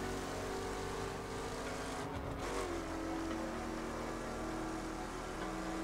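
A race car engine in The Crew revs hard and steadily, a loud sustained whine that dips briefly in pitch as it shifts before climbing again, with no voices over it.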